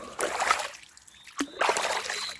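Water splashing in a river, in two short bursts of sloshing and splatter with a quiet gap between, close by and fairly soft.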